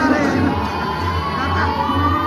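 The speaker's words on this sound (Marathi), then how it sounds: "ही सगळी उत्सुक गँग आहे, तर जल्लोष करणार आहे पालखीमध्ये" An excited crowd at a Hanuman Jayanti palanquin procession in Jambhivali Pada village whoops and shouts together close by. A low droning hum runs beneath the sustained, lively cheering.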